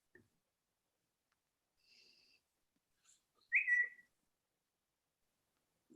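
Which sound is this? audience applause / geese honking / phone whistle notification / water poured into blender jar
phone whistle notification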